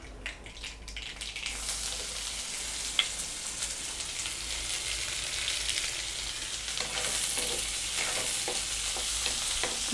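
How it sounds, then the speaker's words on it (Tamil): Mustard seeds spluttering in hot oil at the start of a Tamil prawn thokku: a steady, close sizzle dotted with small crackling pops, running unbroken with no talking. "கடுகு நல்லா பொரிய ஆரம்பிச்சிருச்சு."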